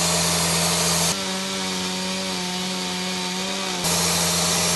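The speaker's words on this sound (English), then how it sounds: "ready to be sawn up into the right size timbers with the mobile saw bench." A mobile saw bench cuts oak timber to size, its blade note rising into a steady, loud, harmonic whine for about three seconds before dropping back to a lower idling hum.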